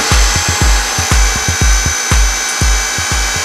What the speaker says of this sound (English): The bend's gonna bend to about 80 degrees.